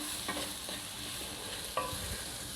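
Potato filling for samosas cooks in a pan with a soft, steady sizzle and a few quiet stirring scrapes. The sound is faint and close, and no one speaks.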